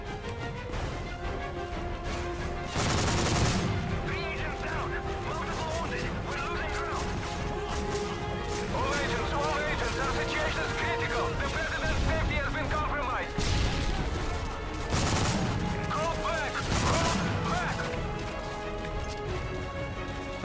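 Gunfire in Call of Duty Modern Warfare 3, with a Five-seveN pistol among the weapons, sounds as repeated sharp shots and several loud crashing bursts over continuous game music and noise.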